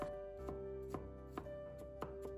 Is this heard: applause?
no